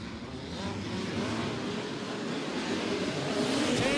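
Midget race car engines roar at Port City Raceway, a dense sustained engine drone from the track with a rising whine near the end as a car accelerates.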